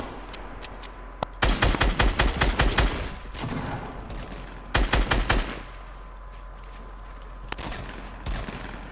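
Gunfire in the video game Fortnite: loud rapid bursts of automatic fire, two main volleys separated by a pause, with a few isolated single shots and a steady game hum underneath.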